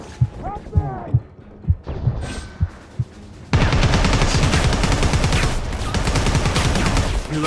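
Gunfire in the multiplayer shooter Predator: Hunting Grounds: a few scattered, punchy shots give way to a sustained, loud barrage of rapid automatic fire, with shouting voices mixed into the chaos.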